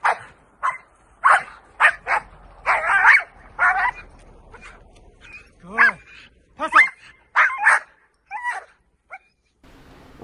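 A five-month-old protection dog puppy barks repeatedly in sharp, loud bursts mixed with yips and whimpers, with some human voices in between.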